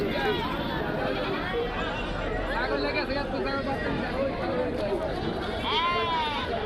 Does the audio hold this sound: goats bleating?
yes